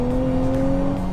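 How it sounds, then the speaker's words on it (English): A steady, throaty 2023 Nissan Z engine growls under heavy throttle, loud and close, holding a constant droning pitch throughout. "Under hard throttle, there's a little turbo whistle if you listen closely, but it's mostly engine growl."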